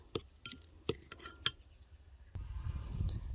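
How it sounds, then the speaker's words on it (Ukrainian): Spoon stirring cottage cheese with sour cream, salt and pepper in a bowl: four sharp metallic clinks against the dish, then a soft, steady mushy scraping of the thick mixture. "сир додаємо ложку сметани, сіль перець і все змішуємо, перемішуємо"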